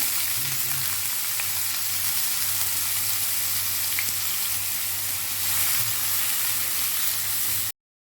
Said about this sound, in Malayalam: ഇതിലേക്ക് ഒരു 2 ഉള്ളി ചെറുതായി അരിഞ്ഞത് ഇട്ട് കൊടുക്കാം